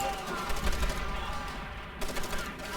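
Rapid gunfire bursts from Call of Duty: World at War gameplay, steady and dense throughout, with a player's voice talking over it.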